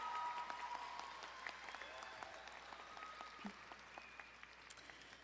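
Graduation commencement audience applauding in a large hall, a broad sustained patter of many hands that is loudest at the start and gradually thins out, with a few faint voices mixed in.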